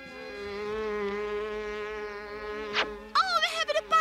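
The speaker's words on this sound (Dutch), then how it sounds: "we hebben de paarse vlieg gevangen" A cartoon purple fly buzzes with a steady, droning whine, loud and close, before a short sharp noise and some squeaky voices near the end.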